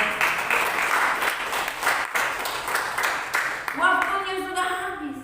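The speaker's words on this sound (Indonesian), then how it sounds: "Tepuk tangan buat Tuhan." Congregation at a church service clapping together, a full, fairly loud burst of applause that carries for several seconds before a voice begins speaking near the end.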